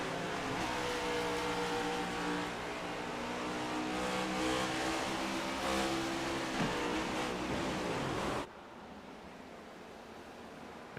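Race cars in a sim racing video game, a crowded pack of next-gen stock cars at World Wide Technology Raceway, roaring together in a steady loud drone with a pitch drop before cutting abruptly to quieter engine noise.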